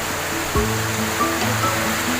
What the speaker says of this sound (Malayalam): ഇത് ഒഴുകുന്ന പിന്നെ വെള്ളം കാറ്റും അതിഭീകരമായ കാറ്റിലാണ് ഇരിക്കുന്നതാണ്